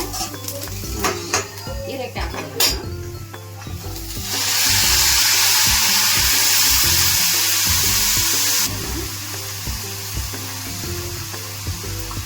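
Chopped ridge gourd with garlic frying in a pan until golden brown, a loud continuous sizzle swelling in the middle, framed by utensil clinks and stirring scrapes at the start and end, with some speech.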